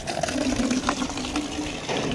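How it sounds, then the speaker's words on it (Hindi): Water runs steadily while dried-out plants are watered, a continuous gushing flow over a low mechanical hum, with no talking. "हाँ, मैं पानी चला दे रही हूँ, आप पानी डाल दो।"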